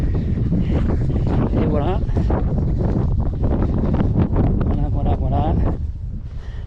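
Gusty wind buffets the microphone on a seaside footbridge, a loud, constant roar under someone speaking French, easing slightly near the end.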